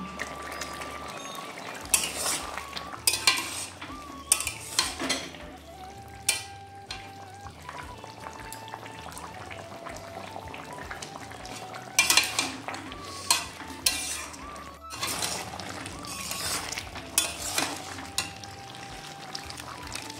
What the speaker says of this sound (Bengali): এবারে এই এঁচোড়ের মধ্যে ভাজা চিংড়ি মাছগুলো দিয়ে দেবো